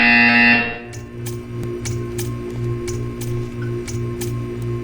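A buzzer in the video game Portal 2 sounds as a series of short, evenly spaced electronic pulses, repeating steadily for several seconds after a louder tone cuts off at the start.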